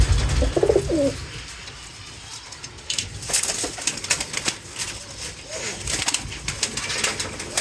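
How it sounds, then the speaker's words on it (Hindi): Pigeons coo softly among rustling and fluttering movement, with a few low throaty calls early on and busy scuffling noises throughout. "ये बड़ा कबूतर है, इसके बच्चे भी है"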